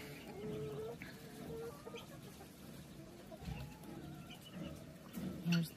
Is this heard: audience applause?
no